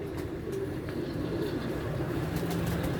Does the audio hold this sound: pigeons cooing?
yes